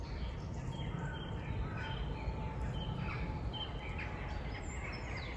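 Faint bird chirps and calls sound intermittently over a steady, low outdoor hum of distant trains at a campsite, distant and quiet throughout.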